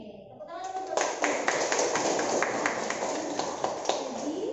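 Audience claps for a speaker in a teaching session, a moderate burst of hand clapping from a room of people with sharp individual claps standing out, and some voices underneath.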